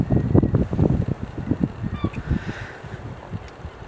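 Herring gulls and ring-billed gulls calling at the mouth of Northeast Creek, a busy overlapping chorus of honking, squealing cries, loud at first and thinning toward the end, with no voices.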